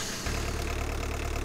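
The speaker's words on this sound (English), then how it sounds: "So to start the engine, you have to press X." An engine in the video game Giant Machines 2017 kicks in after a brief quiet moment and settles into a loud, steady, throbbing idle with a regular low knock.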